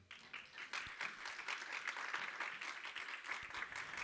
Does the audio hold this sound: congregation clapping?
yes